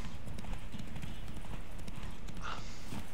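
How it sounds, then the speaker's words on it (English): Hoofbeats of a ridden horse in the fantasy video game The Witcher 3: Wild Hunt, a steady, continuous clip-clop rhythm at a constant level, with faint game ambience underneath. "the horse riding in this game feels very nice"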